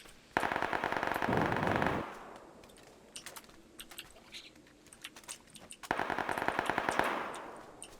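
Gunfire in the PUBG video game: two long bursts of rapid automatic fire, loud and close, separated by scattered single shots and clicking, with no talk.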